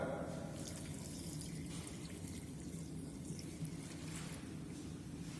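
Steady stream of water running and splashing into a pot, continuous and close, with no talking.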